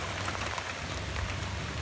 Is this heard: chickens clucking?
no